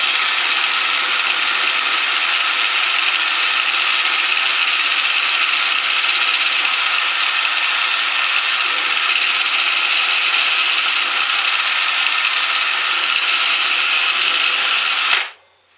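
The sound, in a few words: power drill drilling pilot hole through wooden spacers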